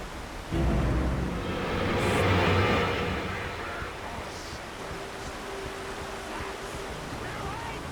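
Rushing river water churns in the Alan Wake Remastered video game, a broad wash of flowing noise that swells in the first few seconds and then settles into a steady, moderate murmur without talk.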